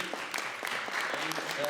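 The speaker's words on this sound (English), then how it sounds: "let's give a round of applause for Dylan." An audience at a film festival's student screening block applauds, a dense, continuous patter of clapping with voices mixed in.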